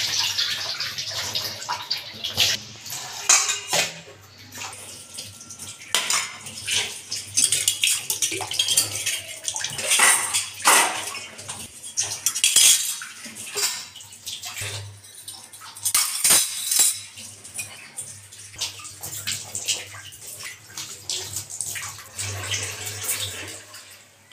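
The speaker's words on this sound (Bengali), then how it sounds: "কিছু বাসন ধুয়ে নিলাম।" Dishes and utensils are washed under running water, with the tap splashing and plates, pots and cutlery clinking irregularly throughout, close and fairly loud.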